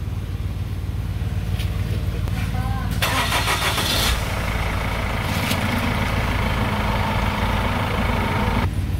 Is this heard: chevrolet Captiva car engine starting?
yes